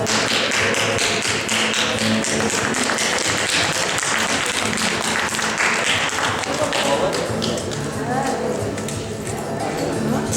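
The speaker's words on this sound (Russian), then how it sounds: "аплодисменты" Rhythmic group clapping in a room, a dense run of sharp, close taps that goes on for about ten seconds, with voices talking underneath.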